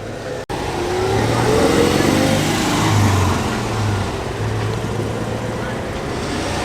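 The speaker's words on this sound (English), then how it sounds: "I hear 2 CV revolutions from behind the Porsche." A Citroën 2CV engine drones and revs steadily nearby at a classic car show, its pitch rising and falling amid other traffic noise.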